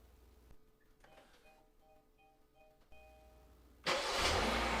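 A 2019 Kia Optima engine, started by a remote starter: a few quiet electronic beeps and clicks, then the engine cranks and catches into a loud, steady idle close by.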